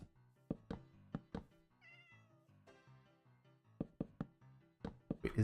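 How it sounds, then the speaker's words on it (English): Faint cat meows in the Minecraft video game, heard at low volume with a short gap between calls and mixed with a series of sharp knocking or tapping thuds during block building. "Keep hearing a cat."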